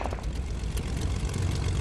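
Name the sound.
plane engine in the video game Fortnite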